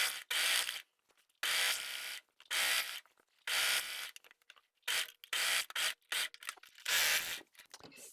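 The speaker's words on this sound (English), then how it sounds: "So I just run a line of serging all along the bottom of the top, so that the bottom hem will be nice and neat." A serger sewing machine runs a line of stitching along the bottom hem of a top. It whirs in short repeated bursts, each a second or so long, with quiet gaps between them.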